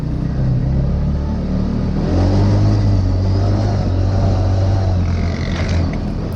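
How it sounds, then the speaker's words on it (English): A Grizzly ATV fitted with a new exhaust, ridden on trails, gives a loud, deep engine rumble that swells as the throttle opens and holds a strong steady drone. "I love it when the Grizzly in the front cracks the throttle. He's got a new exhaust on it, and it sounds great."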